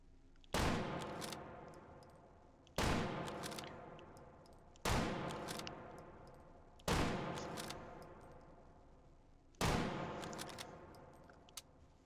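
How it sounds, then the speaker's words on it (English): Five loud, sharp rifle shots from a bolt-action Kar98K in the VR game H3VR, fired a few seconds apart, each with a long decaying echo tail. "Let's do some rapid fire. See how fast we can shoot this thing on target."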